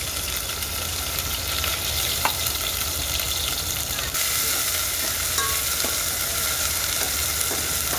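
Garlic and cumin sizzle steadily in hot oil in a pan, a dense continuous frying hiss with a few faint stirring clicks, close and fairly loud with no talking.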